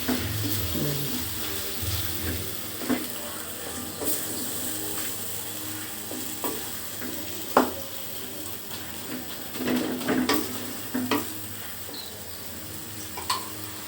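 Beef tripe sizzles and fries in a pan as it is stirred, a steady crackling hiss with scattered clinks and scrapes of the spoon against the pan, fairly close and moderately loud with no one talking.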